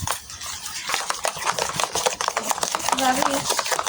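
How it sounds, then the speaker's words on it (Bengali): A batter of jackfruit, sugar and milk powder is mixed by hand, giving rapid, irregular wet slaps and scrapes against a bowl, close and busy, with a brief faint tone near the end. "এবার সমস্ত মিশ্রণ একসাথে আমি মিশিয়ে নেব"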